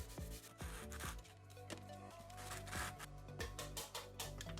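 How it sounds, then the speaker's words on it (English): Hand rubbing over a textured terrain model surface: steady, close scratchy friction with rhythmic strokes and small clicks, fairly quiet and uninterrupted by speech. "I'm just gonna give it a little bit of a rubbing"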